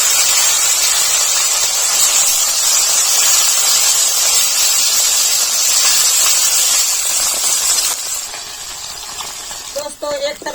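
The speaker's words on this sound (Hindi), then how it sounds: "दोस्तों कढ़ाई गर्म हो गया था, चलिए इसमें हम मछली डालते हैं फ्राई के लिए।" Fish sizzles in a hot kadhai with a loud, even hiss for several seconds. Then the frying softens and a few light clatters of utensils come through near the end.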